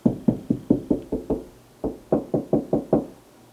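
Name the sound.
screwdriver knocking on hollow wall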